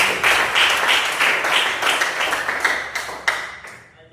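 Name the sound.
applause for group 3 in a classroom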